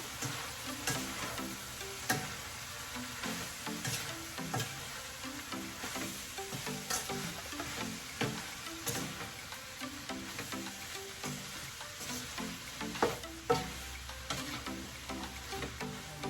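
Bitter melon (ampalaya) with a little sugar and pepper frying in a home-kitchen pan, a soft, continuous sizzle broken by irregular scraping clicks of a spoon stirring it, fairly quiet and close, with no talking.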